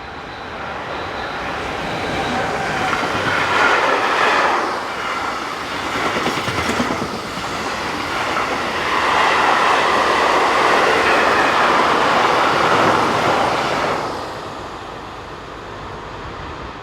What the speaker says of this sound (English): One 185-346 heads south with a mixed freight for Mannheim.